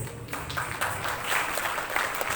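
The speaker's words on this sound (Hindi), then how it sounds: "जोरदार तालियां बजाइए" Audience applause at a women's empowerment award ceremony as a ceremonial lamp is lit, a fairly faint, continuous patter of clapping with some scattered louder claps.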